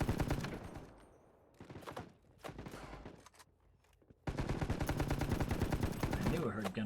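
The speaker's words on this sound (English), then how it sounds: "I knew I heard gunfire in here somewhere." Rapid automatic gunfire in the video game Battle Prime, in bursts, loud and close, with short pauses between volleys before a long sustained stretch of firing.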